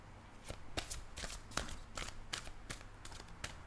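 A deck of oracle cards is shuffled, a rapid series of soft papery riffles and slaps in an uneven rhythm, close and quiet, with no voices over it.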